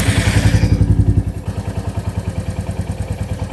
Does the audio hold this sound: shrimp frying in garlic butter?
no